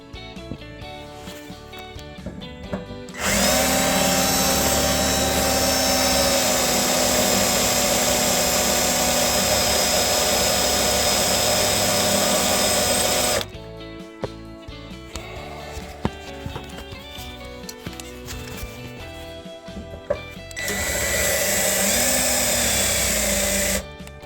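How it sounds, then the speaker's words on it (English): A cordless drill bores into a workpiece in two whining bursts, a long steady run of about ten seconds and a shorter one later, with quieter handling clatter and tool noise between. "Make sure your drill has enough battery in it."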